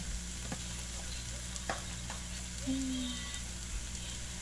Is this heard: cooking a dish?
yes